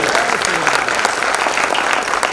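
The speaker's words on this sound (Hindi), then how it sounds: "जोरदार ताली लगा कीजिए" Loud, dense applause from an audience at a Hindi poetry recital (kavi sammelan) on Akhand Bharat Smriti Diwas, a steady wall of clapping filling the hall without a break.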